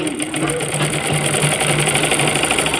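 A sewing machine stitches palazzo trousers with a fast, steady mechanical whirr and rhythmic needle clatter, close and continuous without pause.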